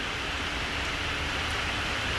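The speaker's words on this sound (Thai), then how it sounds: "ดูฝนตก" Steady rain falling during a storm, a dense even hiss with no breaks, moderately loud and close, with no voices.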